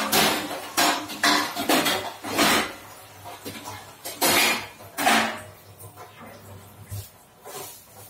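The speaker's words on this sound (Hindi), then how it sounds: "उसके बाद में बर्तन साफ कर लेती हूँ" Metal pots, dishes and utensils being washed by hand in a Uttar Pradesh village home ring out as sharp clanks and clatters in irregular bursts, with quieter scraping and some talk between them.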